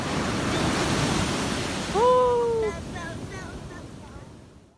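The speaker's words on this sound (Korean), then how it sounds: "파도가 너무 세네." Heavy ocean surf roars in a loud, continuous wash on a beach, with a short voice briefly calling out over the crashing waves.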